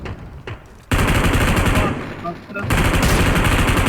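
Enemy gunfire from behind a rock in the mobile game PUBG Mobile: a few faint shots, then loud sustained automatic fire that pauses briefly and resumes, close and continuous.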